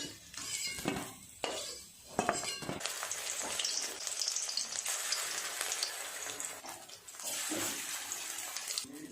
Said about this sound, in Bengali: সমস্ত বড়াগুলো এক এক করে ভাজা হয়ে গেছে